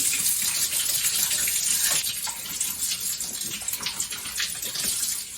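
Warm water, one and a quarter cups, pours for flatbread dough in a kitchen with a wood stove, a steady close splashing gush that runs for several seconds with no talking.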